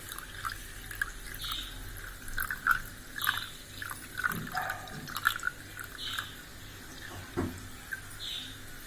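Water being strained through a filter while cooking, faint drips and trickling splashes in an uneven patter, fairly close and quiet, with no talk.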